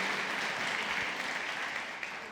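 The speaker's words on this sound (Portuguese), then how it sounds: "pode aplaudir ao Senhor" Church congregation applauding together in praise, a steady, dense wash of clapping that holds even and fairly close throughout, with no voices rising above it.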